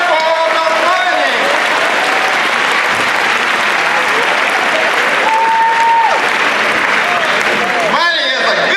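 Audience applause at a grand opening program for the Rocky Mount Event Center, steady and loud throughout, with a speaker's voice talking over the clapping.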